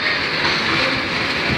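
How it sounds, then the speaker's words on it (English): A train passes through Doncaster station with a continuous loud rolling rumble and rattle of wagons, steady for the whole short stretch. "This is the only train which are passing through Doncaster today to the divert."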